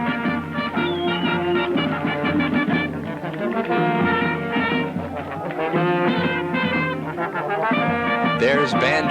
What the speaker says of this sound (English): you can hear the Ontonagon area high school band in the background.